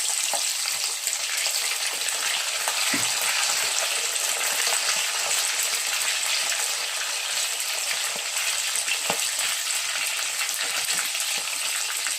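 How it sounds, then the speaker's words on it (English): Beef fries in hot vegetable oil with a steady, loud hiss and crackle, broken by a few soft clinks of stirring. "Once it's hot, I'm going to fry the meat."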